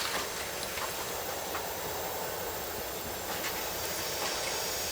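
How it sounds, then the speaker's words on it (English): A steam train standing still gives off a steady, loud hiss of steam with faint metallic squeaks, a continuous wash of sound with no talking. "From outside came the sounds of hissing steam and squeaking metal."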